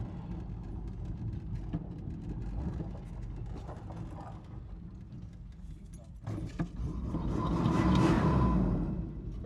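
The engine of a Dodge Ram truck, parked for 20 years, idles with a low steady rumble, swelling briefly toward the end, while people talk nearby.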